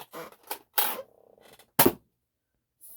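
A Nerf Zombie Driller blaster fires a dart with a sharp single snap, preceded by several soft clicks and a rattling mechanism as it is primed, all close and fairly quiet.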